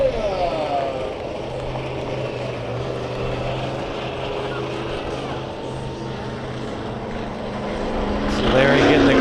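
The Bigfoot monster truck's engine roaring continuously over crowd noise at a wheelie competition at the Antelope Valley Fair, building louder toward the end as it revs up.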